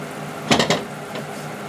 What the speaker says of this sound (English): Stir it again.